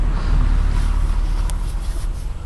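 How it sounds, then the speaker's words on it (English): Road traffic rumbles outdoors as a steady, loud low-frequency roar of passing vehicles, with a brief sharp click midway and no talking over it. "sorry about the traffic noise."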